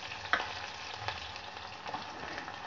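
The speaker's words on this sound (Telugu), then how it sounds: "ఇప్పుడు ఇందులో నేను ఆనియన్స్ వేస్తున్నాను" Onions fry in hot oil in a pan alongside curry leaves, garlic and green chillies, giving a soft, steady sizzle with a few faint stirring clicks. The sound stays fairly quiet and continuous throughout.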